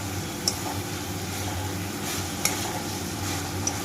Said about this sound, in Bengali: তারপর আমি রেগুলারের যত মশলা আছে ধনিয়া, জিরে, হলুদ, লঙ্কা সেগুলো দিয়ে কষবো